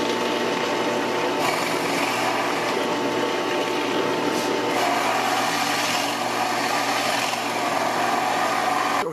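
A power drill bores a test hole in wood while a collapsible Halloween gallows is being built, a steady loud whirring grind running unbroken for several seconds.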